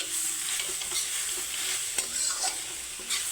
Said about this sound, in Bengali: তো এইভাবে নাড়িয়ে চাড়ে রাখতে হবে যাতে নিচে লেগে না যায়